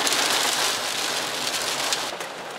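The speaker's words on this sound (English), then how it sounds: "White things popping off the car. It's not big yet, but hail's not good." Small hail pellets striking a car, a dense, continuous pattering and rattling on the body, close and fairly loud with no voices.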